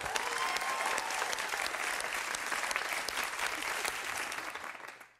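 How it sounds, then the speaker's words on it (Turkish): Studio audience applause on a Turkish late-night talk show, a dense, steady wash of clapping that carries for about five seconds before fading out at the end, with a faint voice briefly audible early on. "Emre Bey'i alkışlayalım ne olur."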